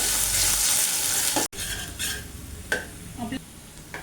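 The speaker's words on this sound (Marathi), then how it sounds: "हे आपण तेलावर छान परतवून घेऊया" Ginger, garlic and coriander paste hitting hot oil for a Malvani-style clams curry, with a loud, steady sizzle, a brief cutoff partway, then scraping stirs and spoon clinks against the pan.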